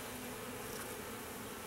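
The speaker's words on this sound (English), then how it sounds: "You can see the bees working it" Honey bees drawing out fresh wax inside a new honey super, their dense, steady buzzing close and continuous with no pauses or voices.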